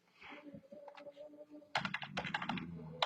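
Typing on a computer keyboard: a few soft, scattered keystrokes, then a denser burst of quick, crisp clicks close to the microphone, with no talking.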